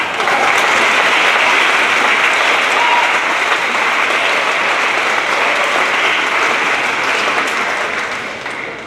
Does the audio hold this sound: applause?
yes